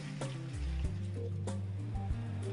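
Clean water, about 5.5 litres, pours steadily into a Stopgap mixing bucket, a close gurgling fill with a shifting pitch as the level rises, heard alone.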